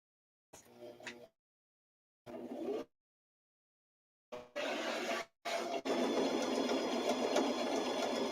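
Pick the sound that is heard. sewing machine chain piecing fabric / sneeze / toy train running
sewing machine chain piecing fabric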